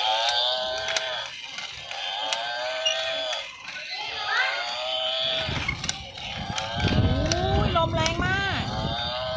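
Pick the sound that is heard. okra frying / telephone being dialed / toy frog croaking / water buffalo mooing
water buffalo mooing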